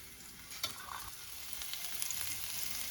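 Garlic fries in hot oil on low gas with a steady, close sizzle and occasional stirring sounds, alone without speech.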